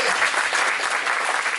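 A room of audience members bursts into steady applause, dense and even clapping filling the short moment without pause.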